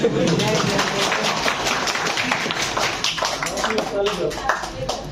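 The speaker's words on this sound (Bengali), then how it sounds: "তালি দিলেন না আপনারা?" Seminar audience clapping in a room, a dense patter of hand claps throughout with voices talking underneath.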